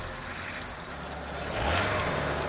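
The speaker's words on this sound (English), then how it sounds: "It does have a slightly chattery belt, if you can hear that." An idling car engine with a high-pitched belt chattering in quick, rhythmic pulses, steady and close.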